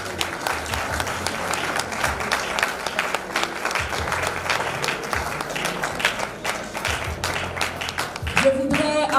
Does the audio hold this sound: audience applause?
yes